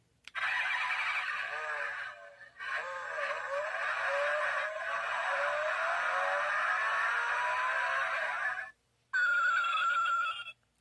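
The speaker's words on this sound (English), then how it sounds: "Engine start." A Mercedes-Maybach engine starts with a steady, loud whirring roar. Its pitch rises slowly for about eight seconds, then it cuts briefly before a short final burst.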